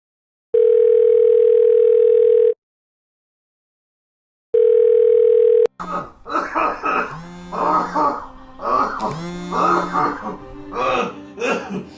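Ringback tone heard while a call is placed on a phone, two long steady beeps separated by a pause, loud and clear, followed by a voice talking over the line.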